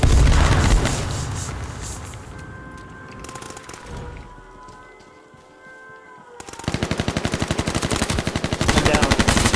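Rapid bursts of automatic gunfire in the battle royale video game H1Z1, loud and close, with a lull of quieter ambience in the middle before heavy shooting resumes.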